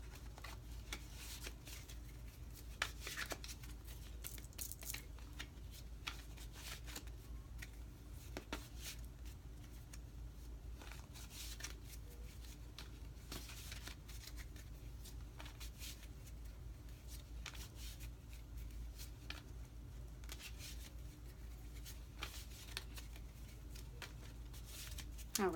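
A tarot card deck is shuffled in a quiet room, producing very faint, repeated soft riffling and patting bursts scattered across a low background hum.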